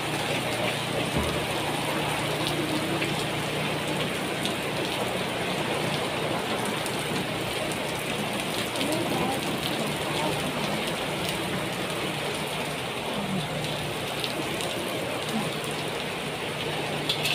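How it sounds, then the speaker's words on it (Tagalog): Heavy rain falls steadily, a dense, constant hiss and patter on surfaces near the microphone that stays loud and unbroken throughout. "makakalakas ang ulan."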